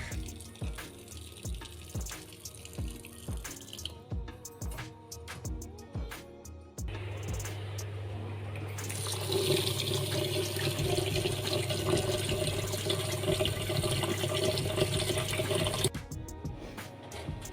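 Tap water runs hard into a sink while a steel rack is washed, with a steady loud gush after earlier clatter and knocks of handling and no speech.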